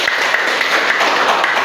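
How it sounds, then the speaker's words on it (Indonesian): A classroom audience applauds in a brief, dense burst of steady clapping, close and fairly loud, with no pauses. "Tepuk tangan."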